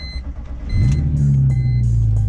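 A BMW E46 car engine revs up and holds steady while the car slides, rising sharply from a low idle into a loud, sustained drone that lasts about a second and a half.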